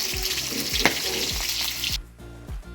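Chillies fry in oil with a steady sizzle over a low rhythmic stirring clatter, the hiss cutting off sharply near the end leaving softer scraping.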